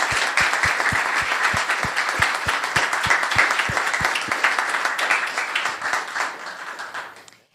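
Audience at a town council meeting in Los Gatos applauding, with steady, dense clapping and a regular rhythmic pulse running through it before it tapers off at the end.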